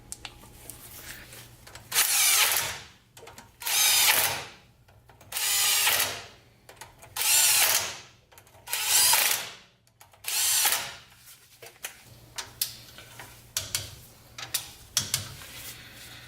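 Wheel spacers and manual hubs are being fastened on a Toyota 4Runner: six loud power-tool bursts about a second each, evenly spaced, then quieter scattered mechanical clicks and rattles, with no talking.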